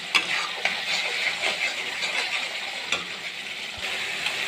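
Mustard paste masala, with salt, turmeric and a little sugar, stir-fried in a pan for a small rohu fish curry: a steady broadband sizzle with faint spatula scrapes and taps throughout, no talking.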